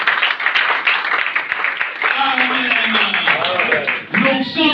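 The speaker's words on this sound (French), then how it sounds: "Acclamons pour la parole de Dieu." A church congregation at a Sunday service applauds, a dense wash of clapping running steadily throughout with voices calling out over it.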